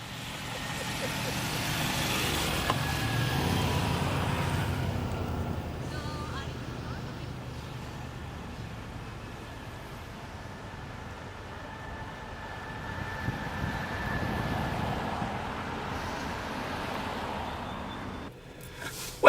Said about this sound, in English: the traffic's shitty here in the downtown west side, as it normally is